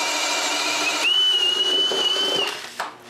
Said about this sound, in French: c'est percer le mur.